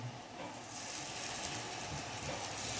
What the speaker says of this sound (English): So oil is hot enough, and we'll add the pieces of suran